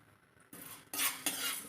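Chana dal is poured into a hot pan on medium heat for moringa spice powder, followed by scraping and stirring clatter, short and fairly close.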